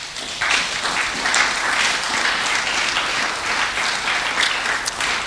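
A church congregation applauding during a service, sustained dense clapping from many hands, loud and steady throughout with no pauses.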